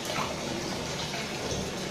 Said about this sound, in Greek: από εδώ τον ανοίγω και φεύγει όλο το νερό